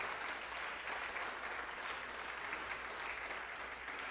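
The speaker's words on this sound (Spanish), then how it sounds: "Aplaudo al Señor entonces" An audience at a church teaching session applauds steadily, the dense clapping of many hands sustained evenly throughout at a fairly soft level.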